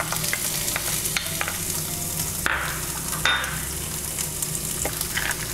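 Chopped onion frying in a pan of oil with roasted chana dal, urad dal and spices for an instant upma mix, a steady close sizzle broken by scattered clicks and scrapes of stirring.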